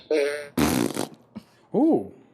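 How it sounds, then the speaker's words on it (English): Toy fart sound effects played in quick succession: a buzzy tonal fart, then a longer noisy blast, a tiny blip, and a final wobbling fart that bends up and down in pitch. "Fart, belch, and vomit."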